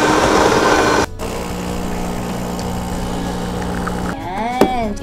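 A home espresso machine pump hums steadily while pulling a single shot, after a louder burst at the start, with a brief rising and falling mechanical whine near the end.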